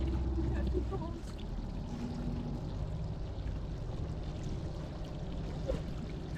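Soft, continuous fizzing and crackling as a melting Newfoundland iceberg releases trapped ancient air bubbles popping in water, steady and fairly quiet, with a faint low rumble underneath.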